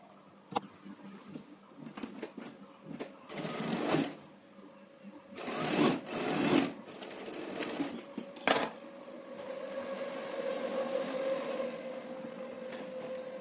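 Domestic sewing machine joining the front and back pieces of a blouse with a designed paan-shaped neck, running in several short stitching bursts before settling into a longer continuous whir near the end.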